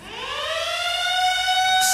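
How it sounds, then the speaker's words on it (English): A siren sound effect rises into a steady, loud electronic wail with strong harmonic tones, heard alone and held for the whole stretch. "Sirens"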